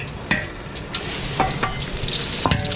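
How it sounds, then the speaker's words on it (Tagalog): Garlic and onion sauté in a hot pan with a dense, continuous sizzle, broken by a few quick spatula knocks and scrapes over a short stretch, with no voices. "So mainit na yung ating kawali kaya mabilis masunod yung ating bawang"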